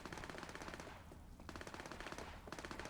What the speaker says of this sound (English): until we hear that gunfire